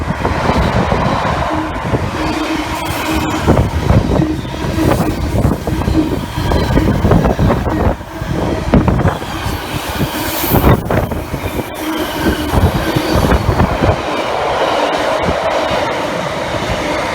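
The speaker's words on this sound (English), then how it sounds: "Some very loud wagons there going from Garston to Southampton" Class 66 freight train running from Garston to Southampton, its very loud wagons rumbling and rattling past at Cheddington on the West Coast Main Line in a continuous heavy roar with clanks, close and sustained throughout.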